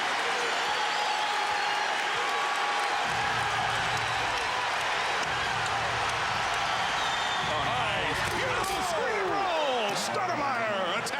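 Basketball arena crowd in a Dallas–Phoenix game roaring after quick baskets by Stackhouse, a steady dense cheer throughout with whistles and shouts rising near the end.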